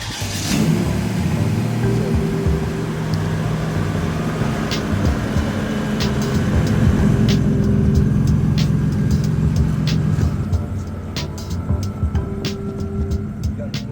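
A 650whp turbo Buick Grand National V6 muscle car revs loudly and continuously close by during a mild burnout, with a sustained engine roar and a faint whine.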